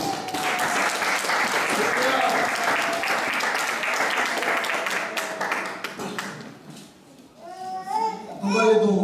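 A church congregation claps and cheers together at a worship service, loud and sustained for about six seconds, then fading as singing and speaking voices rise near the end.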